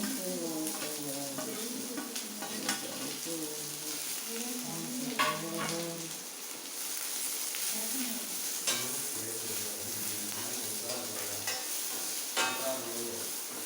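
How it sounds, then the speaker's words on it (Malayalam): Sliced onions frying in hot oil in a pan while being stirred, a steady sizzle broken by scraping stir strokes and light clinks, close and continuous, with faint background talk. "എണ്ണ ചൂടായിട്ടുണ്ടപ്പോൾ നമുക്ക് സവോള ഇട്ട് കൊടുക്കാം."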